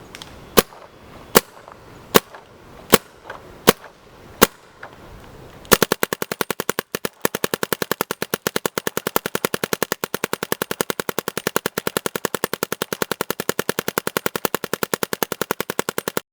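A Vanguard Creed paintball marker fires, first seven evenly spaced single shots, then a long rapid, steady stream of sharp cracks, loud and close with no talking.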